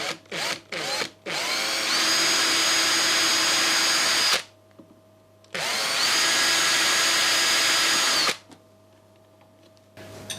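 A power drill bores mounting holes for a USB connector standoff, starting with several short stuttering bursts and then two long steady whining runs of about three seconds each, loud and close, separated by a brief quiet gap.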